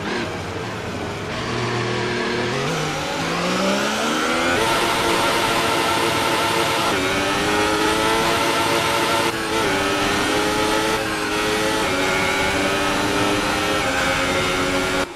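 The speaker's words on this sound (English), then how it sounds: "Let's have a listen and see what is going on with her gearbox." An F1 car engine from the F1 2018 video game, running with a gearbox fault, revs loud and continuous, its whine climbing steadily in pitch and then holding high with small shifts, with no voices.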